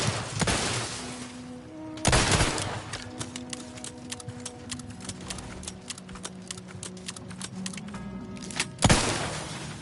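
Rapid bursts of video-game gunfire crackle through a shooter fight, sharp repeated shots over a humming background with louder blasts near the start and end, no talking.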